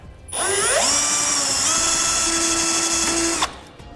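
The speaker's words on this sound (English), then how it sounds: "I'm going to go right in the center of the rivet and very carefully drill up." A power drill whirs at high speed, its pitch dipping as it bites into a metal rivet on a 2018 Jeep, running steadily for about three seconds before cutting off.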